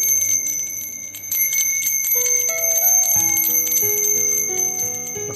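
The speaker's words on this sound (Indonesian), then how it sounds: "Dia kalau kena 4 mangkok tersebut bunyi enak tuh," A wind chime of four copper bowls struck by a ball rings with bright, sustained metallic tones, several overlapping strikes sounding one after another and layering into a shimmering chord alone, close by.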